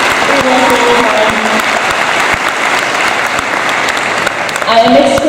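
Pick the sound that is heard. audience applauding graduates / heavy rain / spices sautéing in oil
audience applauding graduates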